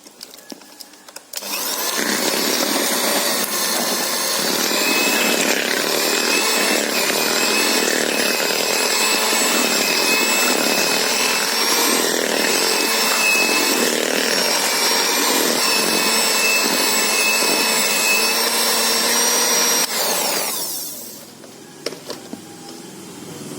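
An electric mixer beats butter and margarine for cookie dough, a steady high whirring motor hum that runs continuously for about twenty seconds, starting abruptly and winding down at the end, with no talking.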